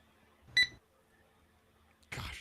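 A smoke alarm with low batteries chirps once with a short, sharp high beep, followed by quiet and then a muffled rustle nearby.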